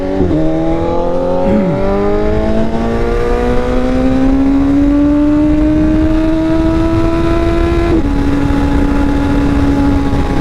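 A BMW S1000RR motorcycle engine drones loudly and continuously while riding, its pitch climbing steadily through the gears, with one brief dip around a shift before it settles into a high, sustained whine.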